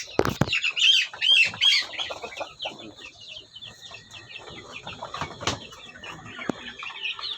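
Native chickens cluck and squawk in a pen in a steady flurry of close calls, with a burst of wing flapping early on and faint Filipino speech in the background.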